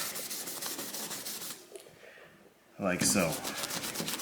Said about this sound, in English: So I got gray Scotch Brite. I'm just going to cruise over the whole thing.